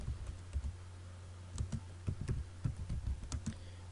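Keys clicking on a computer keyboard while a GW-BASIC program is typed, scattered single taps and short runs of keystrokes over a steady low hum, close and moderately quiet, no one speaking.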